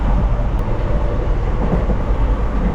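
A passenger train in Kerala rolls along at night on the way to Varkala, a loud, steady rumble with a faint rhythmic clatter of the wheels running throughout and no voices.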